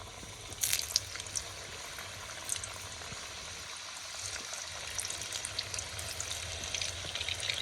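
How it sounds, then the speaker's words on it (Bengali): Kuli pitha dropped into hot oil for frying, giving a steady bubbling sizzle with crackling pops and a few sharper spatters near the start, close and continuous with no voices. "এবার তেল গরম হয়ে গেছে আমি কুলি পিঠে তেলের মধ্যে দিয়ে দিচ্ছি"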